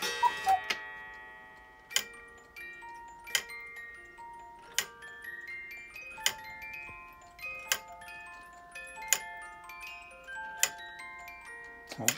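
Ticking of a Zenzi beer maiden cuckoo clock with wooden figures, heard alone as regular, evenly spaced sharp ticks with ringing metallic overtones that fade between beats, fairly close and quiet.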